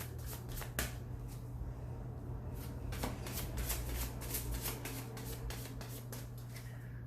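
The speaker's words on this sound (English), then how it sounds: "I'm going to pull 6 cards here" Tarot cards shuffled and pulled from the deck, a continuous close riffling and flicking of cards with a few sharper snaps over a low steady hum, no talk.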